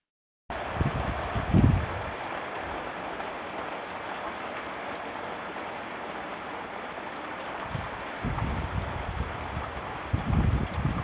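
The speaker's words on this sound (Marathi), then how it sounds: "लगेच थोडासा पाऊस पडला आणि एवढा पाणीच पाणी" Steady hiss of rain falling continuously, fairly close, with occasional low rumbles and bumps rising above the wash of noise.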